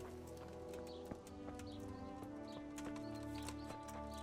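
Horse hooves clip-clop in the medieval video game Kingdom Come: Deliverance, a steady run of hoofbeats under a sustained tonal game music bed, faint overall with occasional bird chirps.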